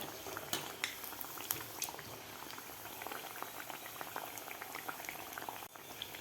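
Potato pinwheel samosas deep-frying in hot oil, a steady dense bubbling sizzle with scattered crackles and pops running throughout, close and moderately loud with no voices.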